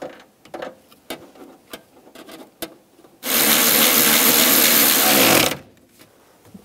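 Rear strut mount nuts on a 2004-2009 Toyota Prius being tightened with a ratchet: scattered light clicks and knocks, then a loud, close, sustained mechanical whirring burst lasting about two seconds before it stops.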